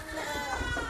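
Goats on a goat farm let out a brief, wavering bleat close by, heard alone in a single short burst.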